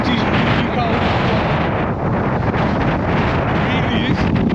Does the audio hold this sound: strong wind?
yes